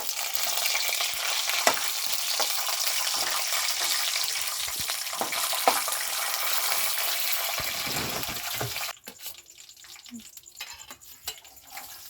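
Peanuts fry in hot oil with a dense, steady sizzle and occasional stirring scrapes, then the sizzle drops away near the end, leaving quieter clinks and kitchen sounds.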